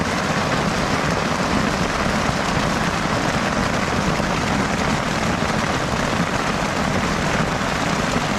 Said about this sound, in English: That's a huge rainstorm.